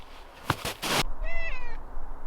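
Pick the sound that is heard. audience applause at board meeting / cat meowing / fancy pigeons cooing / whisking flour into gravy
cat meowing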